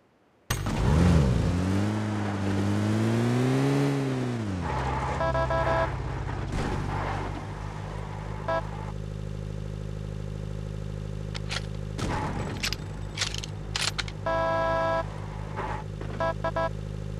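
Car in PUBG Mobile on the Livik map, engine revving with rising and falling pitch early on, then a steady low drone of driving with scattered clicks and game effects layered over it.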